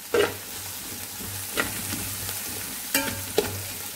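Coconut pieces fry in a pan for a spicy Kerala-style beef curry, giving a soft steady sizzle broken by a few sharp stirring scrapes and knocks, close and moderately quiet.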